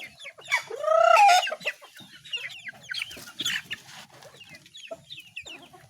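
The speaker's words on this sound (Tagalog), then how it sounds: "Matapang pa yung ating broodcock na mamalo." Roundhead gamefowl clucking and calling in a backyard pen, a loud rising squawk near the start followed by a run of shorter clucks and chatter, close and clear with no talking.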